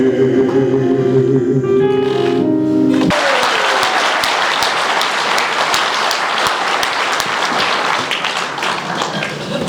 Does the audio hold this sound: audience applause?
yes